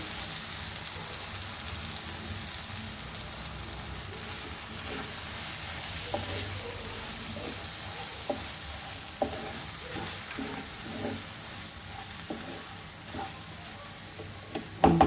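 Chana masala fries in a pan with a steady broadband sizzle while a spoon stirs it in irregular scraping strokes, close and fairly loud, with no voice.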